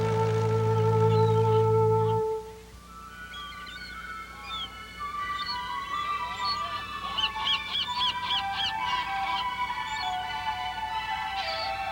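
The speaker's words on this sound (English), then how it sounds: "Here on Værø is a huge bird sanctuary where we find millions of seagulls, puffins, and other seabirds nesting in the rocks" Seabirds such as seagulls and puffins call at a huge nesting sanctuary on the rocks of Værø, Norway, a chorus of overlapping cries and chatter that follows a loud, deep honk at the start.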